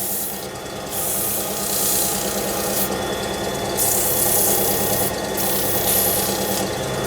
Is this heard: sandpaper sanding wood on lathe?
yes